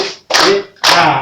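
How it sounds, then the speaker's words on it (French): An audience at a church gathering claps in two short, loud bursts of dense applause, separated by a brief gap, heard close. "Applaudissons."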